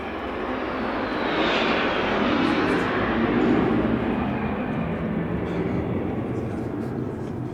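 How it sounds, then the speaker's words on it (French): A fighter jet passing overhead, heard as a steady, loud, broad roar that swells in the middle and stays strong for several seconds. "il y a un avion de chasse qui passe"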